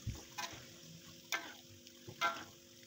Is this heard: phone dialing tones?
no